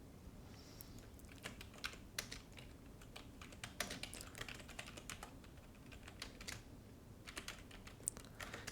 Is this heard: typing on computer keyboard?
yes